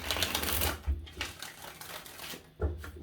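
Tarot cards rustle and flutter close up in a continuous, fast, papery shuffle that sputters briefly near the end, with no talking.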